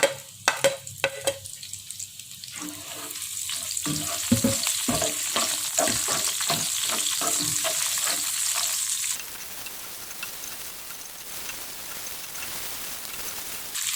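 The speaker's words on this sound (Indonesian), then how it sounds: "Nah ini kita tumis bawang bombay sahabat ragam" Sliced bawang bombay onions sauté in vegetable oil in a wok for tempe oseng, opening with sharp clatters and spatula scrapes over loud crackling, then settling into a softer, steady hiss of frying.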